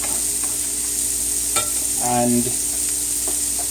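Chopped onion sizzles and is stirred in a pot for curry chickpeas, a steady loud frying hiss with a few scraping stirs.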